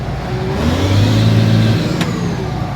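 A John Deere 2264 combine harvester engine revs up, its steady drone rising in pitch and swelling louder midway before easing back, heard close and continuous with no voices.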